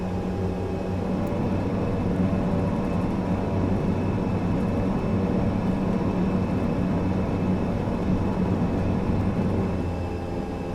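Turboprop engines of an ATR 42-600 airliner in Microsoft Flight Simulator spool up for taxi, a steady, loud broadband drone with low tonal hum holding throughout.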